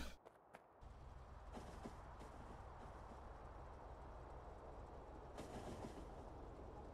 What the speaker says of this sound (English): Let me just move the train forward so I can test.